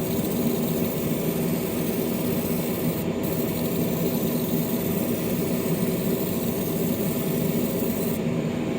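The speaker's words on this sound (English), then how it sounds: "I'm going to go ahead and turn on my spray booth" A steady, droning spray booth exhaust fan hums continuously at close range, drawing off vapors while chrome is stripped from a model car part, a dense unchanging roar with no voices.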